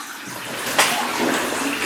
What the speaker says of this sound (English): we're almost to the running water